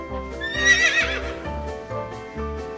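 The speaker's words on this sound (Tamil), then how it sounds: "horse குதிரை" A domestic horse gives one loud, close whinny that rises and then trembles downward, with no other sounds around it.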